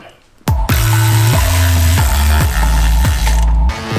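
A hand ratchet fitted with a 15mm socket is worked on a Jeep JL Wrangler front winch bumper. It gives loud, close, rapid clicking with several regular swings, each ending in a distinct pawl reset.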